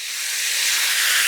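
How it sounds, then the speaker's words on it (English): Teriyaki sauce hits cooked turkey meatballs in a hot pan, giving a loud, steady sizzling hiss that builds slightly and continues alone. "Once our meatballs have cooked, we add in our teriyaki sauce."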